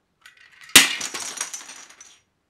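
A big chunk of Legos dropped onto a hard surface lands in one sharp crash, then a short scatter of clinking, rattling pieces that fade over about a second, mimicking glass breaking.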